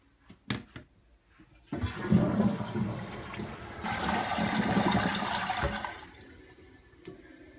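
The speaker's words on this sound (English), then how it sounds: "flush him down the toilet." A toilet flushes nearby, opening with a couple of sharp clicks before a rushing surge of water swells, peaks and gradually drains away into a fading trickle, with no talk.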